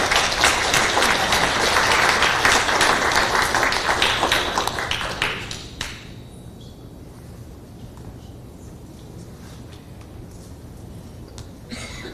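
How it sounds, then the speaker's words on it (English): A school board meeting audience applauds tenured teachers, dense clapping for about five seconds that fades into quiet room tone. "join me in another round of applause for all of our tenured."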